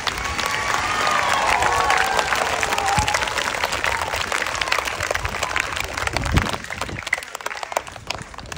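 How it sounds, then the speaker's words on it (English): A graduation crowd applauds the graduating students, a dense sustained clapping with some cheers that thins toward the end. "Please give these hardworking students a round of applause."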